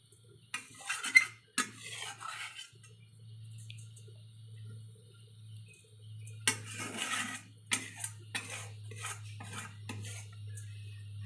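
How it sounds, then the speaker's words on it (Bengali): Whole fried fish eased from a wok onto a plate in a home kitchen, with scattered soft clinks and scrapes of utensil against metal and dish over a steady low hum, quiet and close. "আস্তে আস্তে করে থালাতে নামিয়ে নিচ্ছে যাতে মাছটা না ভাঙে"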